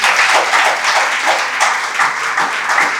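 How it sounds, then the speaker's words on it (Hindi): An audience of students at a NEET exam motivational session claps loudly and steadily, a thick, continuous roar of hands with slight swells and no voices over it. "इसके लिए जोरदार तालियां।"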